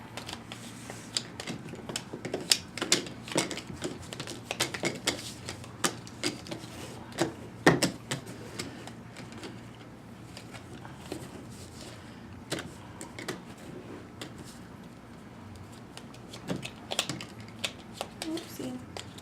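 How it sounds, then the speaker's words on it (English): Piles of Magic: The Gathering cards are shuffled face down on a table, giving irregular soft riffling slaps and clicks across the stretch, close by, with people talking now and then. "We have to shuffle each pile face down."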